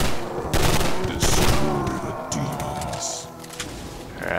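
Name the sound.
burst pistol gunfire in Hells Reach video game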